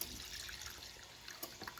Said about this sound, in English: I'm going to throw off some of this oil